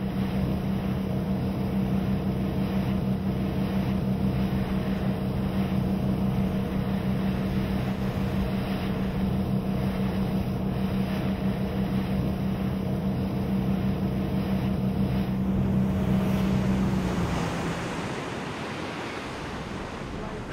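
Boat engine running on a whale-watching trip along the South African coast near the Cape of Good Hope, a steady low drone mixed with wind and surf that stops near the end, leaving quieter sea noise.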